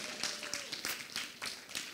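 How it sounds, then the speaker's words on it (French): A church congregation claps in a loose, rhythmic pattern, each clap soft and distant with quiet room sound between. "Quelqu'un dit amen et applaudit le Seigneur pour cela."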